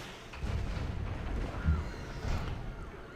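Artillery firing on a city in the video game Civilization V: a low rumbling barrage with a heavier boom in the middle and another thump near the end, moderately loud and muffled.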